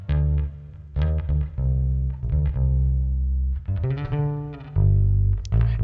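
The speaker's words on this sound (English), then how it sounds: "the bass line I recorded myself" Self-recorded bass guitar line for a track, played alone: loud, sustained low notes in a steady melodic phrase, with a slightly processed, effected tone.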